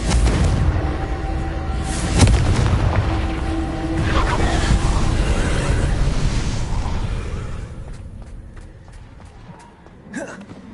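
Confringo blasting spell explosion in Hogwarts Legacy on PS5: a loud booming blast with a sharp crack, then a rumbling, fading tail of debris and scattered clicks.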